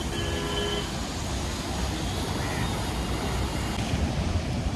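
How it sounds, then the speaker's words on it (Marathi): Sea waves crash and surge at Nariman Point on the Mumbai shoreline, a steady, loud broadband roar mixed with wind buffeting the microphone, with no clear breaks between the waves. "जवळ जोरात लाटा येतात बघा"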